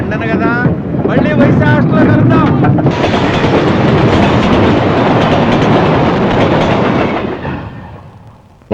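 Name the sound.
train picking up speed on rails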